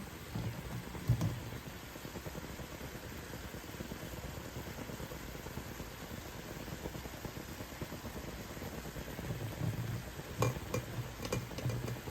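Sausage being broken up in a pan, with soft steady sizzling and scraping from a spatula at fairly low level throughout, plus a few sharper clinks near the end.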